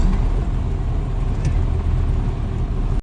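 Road traffic on a busy street in the afternoon, a steady close rumble of passing cars and heavier vehicles that continues throughout and cuts off abruptly at the end.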